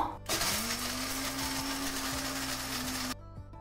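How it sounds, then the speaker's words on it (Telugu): A mixer grinder whirs loudly and steadily as it grinds spices, a close, even motor drone lasting about three seconds before it cuts off abruptly. "మిగిలిన వాటిని ఇట్లా మిక్సీ వేసుకుందాం."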